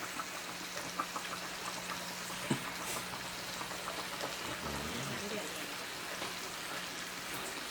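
Quiet bubbling and hissing of water at a rolling boil, a soft continuous churn with occasional small pops, close by but faint.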